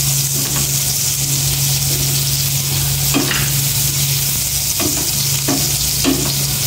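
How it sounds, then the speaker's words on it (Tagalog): Garlic and onion sauté in a hot pan with a steady, loud sizzle, broken by a few sharp stirring scrapes; a low steady hum sits beneath, and no one talks. "Ay, sibuyas pala bawang. Gisang maigi yan."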